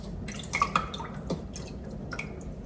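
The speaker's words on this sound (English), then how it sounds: "So I'm literally wetting my hand, pretty much my whole hand, both of them." Water dripping and splashing softly from wet hands being dampened before shaping homemade breakfast sausage patties, a few quick close drips and small wet squishes.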